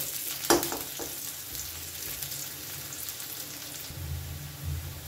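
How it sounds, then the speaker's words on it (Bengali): Chopped garlic frying in a pan for a mashed eggplant dish, a steady close crackling sizzle with a sharp utensil clink early on and faint stirring. "রসুন কুচিটাও খুব ভালো করে ভাজা ভাজা মতন করে নেব"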